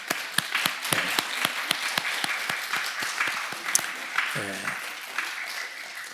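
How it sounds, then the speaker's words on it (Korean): Church congregation applauding during a Wednesday worship service, steady crisp clapping from a modest crowd with distinct individual claps, a brief voice cutting in partway through. "우리 박수 한번 쳐주시죠."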